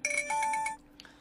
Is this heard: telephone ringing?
yes